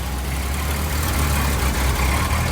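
Series 2 forward control Land Rover with an inlet-over-exhaust six-cylinder engine idling nearby at an outdoor vintage vehicle show, a steady low rumbling drone with no talk.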